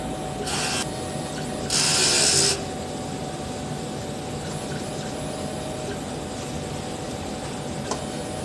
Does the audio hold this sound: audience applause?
no